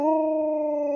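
A dog howls back when spoken to: one sustained, steady, tonal howl lasting about a second, loud and close, with no talking over it.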